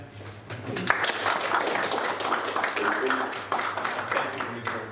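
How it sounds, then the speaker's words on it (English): Conference audience claps for panelists, a steady moderate round of applause heard at some distance, with a low hum underneath and brief talk over it. "So please an applause for them."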